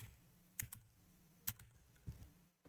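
A few sparse, faint keystrokes on a computer keyboard, spaced irregularly in a quiet room, with no one speaking.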